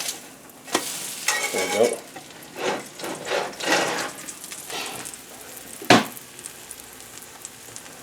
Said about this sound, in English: Oh, look at that. Sizzle, sizzle, sizzle.